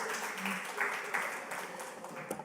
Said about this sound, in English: Can we please give another round of applause to those two presenters?